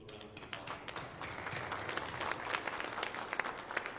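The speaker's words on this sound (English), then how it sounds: "Please give a round of applause." Audience applause at a battalion change of command ceremony: steady, fairly faint clapping from a modest crowd, heard from a distance and continuing throughout.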